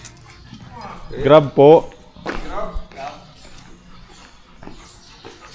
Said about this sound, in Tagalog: may mga aso po kami, tatali lang namin